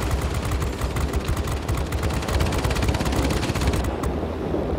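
Rapid, continuous machine-gun fire from the tail gunner position of a B-17G Flying Fortress in World of Warplanes, a loud unbroken stream of shots over aircraft engine drone, cutting off sharply near the end.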